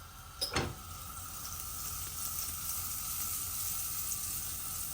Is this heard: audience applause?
no